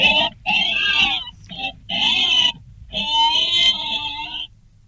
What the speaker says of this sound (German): In dem Augenblick hat er ein Grunzen gehört und ein Quieken.